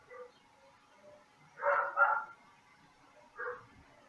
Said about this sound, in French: Ils sont énervés mes chiens aujourd'hui.